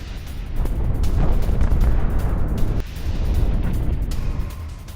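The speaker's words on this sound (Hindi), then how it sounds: "नतांज एटमी साइट के पास धमाका हुआ है" A deep, rumbling explosion near the Natanz nuclear site, with rolling low-frequency roar that dips briefly and returns, heard at a distance without voices.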